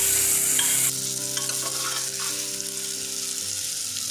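Cashews and raisins frying in a pan for veg pulao, a steady close sizzle under repeated scraping stirs, loudest at the start and then settling to an even hiss.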